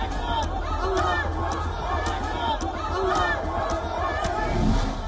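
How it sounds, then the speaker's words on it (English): Angry crowd at Makhachkala airport in Dagestan, Russia, storming the landing field and chanting slogans; a loud, dense mass of shouting voices with rhythmic chant pulses throughout. "They rushed onto the landing field, chanting anti-Semitic slogans"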